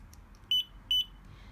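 Two short, sharp electronic beeps come from a VT600 GPS tracker when an iButton key touches its reader, evenly spaced about half a second apart over quiet room noise.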